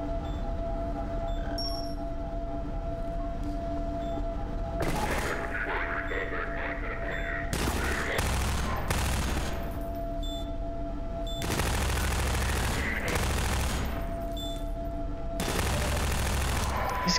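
Bursts of automatic gunfire from an inaccurate gun in the Half-Life 2 video game, loud rapid volleys repeating in several separate clusters over steady game background noise, with no talking.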